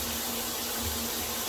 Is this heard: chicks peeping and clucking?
no